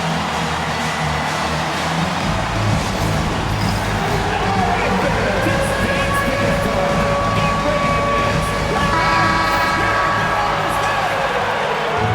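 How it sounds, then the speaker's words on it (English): A high school basketball crowd roars inside the gym in a steady, dense wall of cheering and chatter that stays loud for the whole stretch without clear breaks. "you gotta love hearing a crowd get this fired up"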